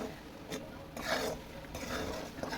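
Green chillies fry in oil and are stirred with a spoon for sabudana khichdi. A gritty scraping and rubbing of the utensil against the pan comes in short strokes over a low sizzle.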